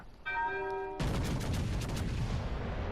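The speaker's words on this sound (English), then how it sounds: "we're going to get another shot off" Main guns of the battleship USS Wisconsin firing in a naval video game: a single massive, loud broadband blast crashes in after a short tonal chime, then a long rumbling roar sustains to the end.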